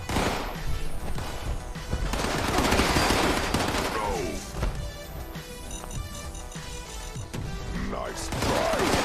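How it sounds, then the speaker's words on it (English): A frag mine explosion and gunfire in the Fallout 76 video game, with dense, continuous loud blasts and rapid shots layered with clattering game effects throughout. "Frag mine."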